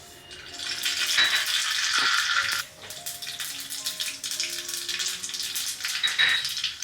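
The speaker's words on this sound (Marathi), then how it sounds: "तर चला मी याच्यावरती आता एक बेसिक फोडणी टाकून घेते." Mustard seeds and curry leaves hitting hot oil for a tempering in a Marathi home kitchen, producing a loud, hissing, crackling sizzle that briefly drops off, then carries on with scattered pops, no talking.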